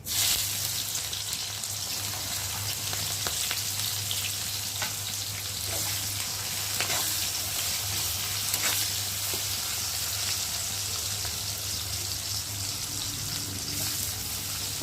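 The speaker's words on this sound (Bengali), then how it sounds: "পেঁয়াজটা লাল লাল করে ভেজে নিয়েছি" Chopped onion frying in oil for biryani, with bay leaf and garam masala, sends up a loud, continuous sizzle with faint stirring ticks across the whole stretch and no voices.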